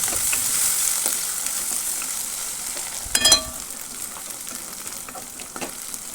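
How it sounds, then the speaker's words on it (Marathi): Green chilli and garlic paste fries in a pan, giving a steady soft sizzle close by, with one brief louder scrape of stirring midway and no talking. "त्याच्यात हिरव्या मिरची आणि लसणाची पेस्ट पेस्ट टाकायची आहे चांगलं असं भाजून घ्यायचं आहे जरा"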